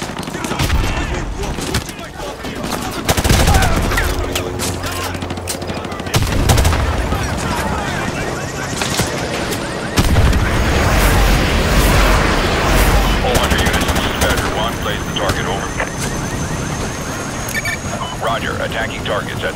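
Sustained automatic fire from a sentry gun in Call of Duty Modern Warfare 2 Remastered, loud rapid bursts mixed with explosions and battle noise, with voices shouting over the chaos.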